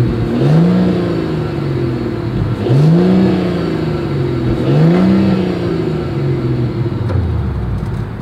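A 2024 Mercedes-Benz GLS 450 revs through its dual exhaust three times, each blip rising and falling over a steady idle, recorded close and loud with no talking.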